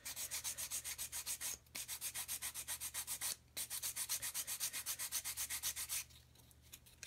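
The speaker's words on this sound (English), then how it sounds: "Okay, so sand away that lump. Just like so, just take away the excess." Sandpaper rubbing a plastic part of a 1/72 scale U-9 U-boat model: quick, even back-and-forth strokes, close and clear, in two runs broken by brief pauses, then stopping near the end.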